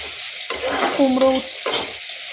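Fish frying in oil in a pan, heard up close with a loud sizzle and a few bursts of metal-on-pan stirring and scraping, with quiet gaps in between.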